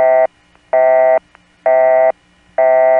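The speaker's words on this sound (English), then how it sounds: "The sound of a busy signal." A telephone busy signal repeats four times, each a loud, steady, buzzy tone of about half a second separated by even gaps of silence, heard clear and alone.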